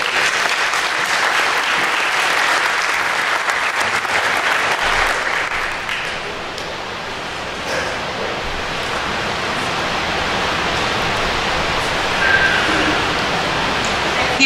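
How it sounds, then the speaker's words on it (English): Sustained audience applause at a school Honors Day 2019 ceremony: a thick, even wash of many hands clapping that eases slightly midway and then carries on strongly throughout. "Give them a round of applause"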